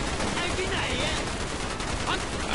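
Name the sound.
heavy gunfire in the video game Call of Duty Black Ops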